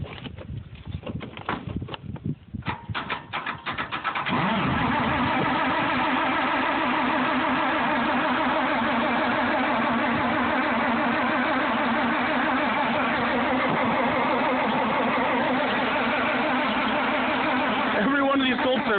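A Farmall 460 tractor makes a hard cold start. Several seconds of irregular cranking and sputtering lead to the engine catching and settling into a loud, steady, rumbling run that stays close throughout, with voices heard over it.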